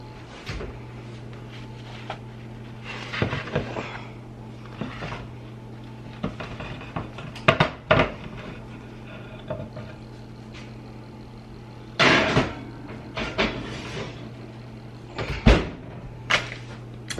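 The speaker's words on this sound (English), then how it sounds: "Alright, I'm going to pop this in the oven." An oven door opened and shut in a home kitchen as homemade pizzas go in, several sharp clunks and thuds scattered over a steady low hum, with no talking.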